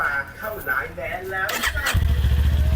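A 2019 Kawasaki Ninja 400 ABS on its stock exhaust starts up after someone talks, catching and settling into a steady, close, loud idle.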